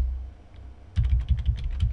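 Keys are typed on a computer keyboard while a DNS entry is entered, a brief rapid burst of close, crisp clicks after a quiet start.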